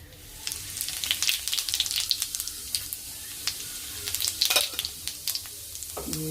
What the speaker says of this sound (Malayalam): കടുകെണ്ണ നമ്മൾ ജീരകം ഇടും.